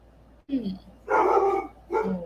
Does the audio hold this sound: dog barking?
yes